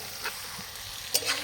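Mutton being sautéed in a pan for a mutton and potato curry, a steady close sizzle with scraping stirs and one sharper clink of a utensil near the end, no voices.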